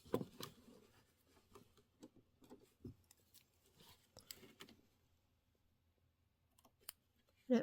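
Scissors trim felt for a Kimberbell Thanksgiving pillow, giving soft, close clicks and snips spaced irregularly at a low level, with a few quiet sounds of handling in between.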